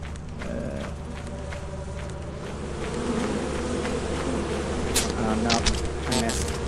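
Bees from hives in the video game Lethal Company buzz in a steady, swelling drone that grows louder partway through, with a person talking over the buzzing and some sharper game noises near the end.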